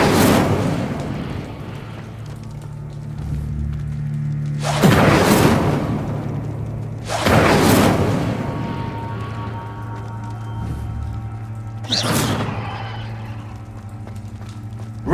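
Incendio fire spells are cast repeatedly in the Hogwarts Legacy video game, each one a loud roaring whoosh of flame, heard about four times over a low steady rumble.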